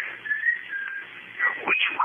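A thin, wavering whistle, moderately close, drifting up and down in pitch with a few short rising glides near the end.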